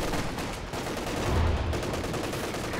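Vickers machine gun suppressing fire in a wartime strategy game rattles in dense, continuous bursts, loud and close, with a heavier low thump swelling midway through the clatter.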